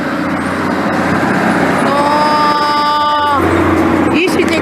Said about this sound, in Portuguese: Olha o caminhão.